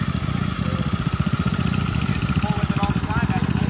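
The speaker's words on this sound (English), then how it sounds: "Tractor pull going on." Small lawn tractor engine running at a tractor pull in the lawn tractor division, a steady close putter with rapid even pulses.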